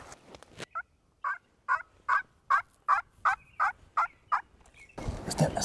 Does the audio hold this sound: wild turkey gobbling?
yes